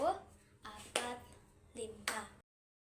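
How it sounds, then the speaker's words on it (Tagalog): Classmates give a few quiet, sharp hand claps in an evenly spaced run, soft and close, with a voice speaking between them. "bigyan natin din siya ng 5 palakpak"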